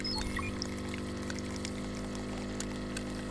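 Water pours steadily to brew coffee in the DayZ video game, a continuous liquid splashing and gurgling over a low hum, with small clinks scattered through it and no talking.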